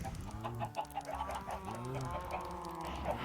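Minecraft chickens clucking in a farm pen, a layered chorus of short bawks and murmuring clucks, steady and close, with soft game ambience beneath and no talk.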